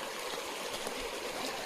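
A river in Jim Corbett National Park flows steadily nearby, a close, even rush of water with small gurgles and trickles and no talking.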